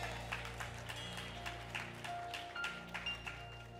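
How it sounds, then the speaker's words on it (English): A church congregation claps hands together during a worship service, a steady run of bright, quick claps over a low sustained organ or keyboard drone, fairly faint and roomy. "Clap your hands for what the Lord did in this place on today"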